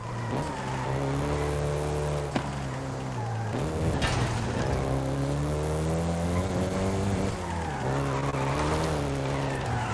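Volkswagen Golf GTI in Forza Horizon 5 revving hard with a steady engine drone, shifting pitch as it accelerates and slides, with repeated tire skids and squeals, loud and continuous throughout.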